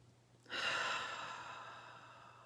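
One long, audible sighing exhale through the mouth to let go of tension, starting abruptly and trailing off gradually, close and clear with no speech.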